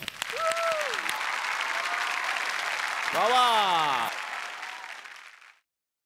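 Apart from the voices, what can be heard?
studio audience applause for Saurabh Gokhale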